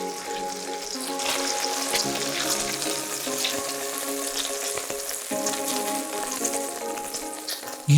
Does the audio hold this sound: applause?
no